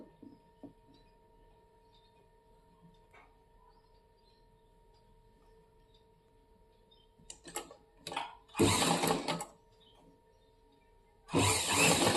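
A sewing machine stitching a cross belt onto a blouse runs in two loud, close bursts after a long quiet stretch of faint handling noise, the second run continuing to the end.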